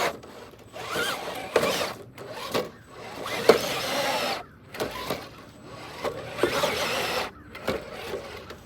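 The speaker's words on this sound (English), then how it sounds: "I'm testing the heck out of that motor." Rebel RC Rebelcon electric RC car motor running in bursts: uneven whirring and grinding pulses that start and stop repeatedly, moderately close, with no talk.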